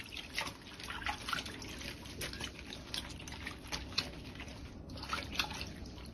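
Faint water drips and trickles as cabbage leaves, with the root and bad leaves removed, are washed in a basin of water. Soft irregular splashes continue quietly throughout.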